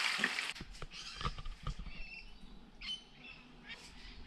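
Birds squawk and chatter outdoors in short bursts, with faint rustling and scattered clicks close by during home cooking of pansit noodles; no dog bark stands out clearly.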